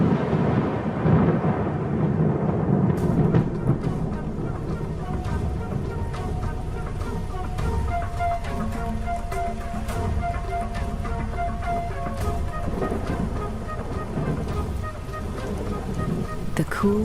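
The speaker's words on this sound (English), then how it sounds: "the promised rain arrives at last" Thunderstorm breaking over a hot, dry open plain with a cool rain downpour, heavy steady rushing rain beneath a deep rumbling thunder roll, continuous and full throughout.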